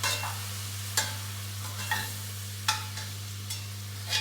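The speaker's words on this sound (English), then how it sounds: "Get the flour in and get it stirred up." Flour being stirred into a pot of coq au vin, a few distinct scraping strokes of a spoon against the pot over a steady low hum, with no talking.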